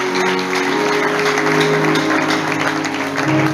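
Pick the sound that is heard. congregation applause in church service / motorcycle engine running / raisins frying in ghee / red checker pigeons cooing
congregation applause in church service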